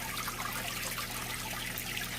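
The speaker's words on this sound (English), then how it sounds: "Water flowing out of that one right there." Water pours steadily from a Fluval FX4/FX6 canister filter into an African cichlid aquarium, making a continuous close rushing trickle with no breaks.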